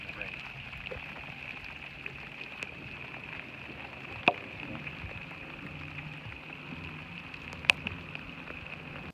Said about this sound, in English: sometimes there's a little rain and it's dribbling